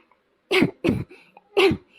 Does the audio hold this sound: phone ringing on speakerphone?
no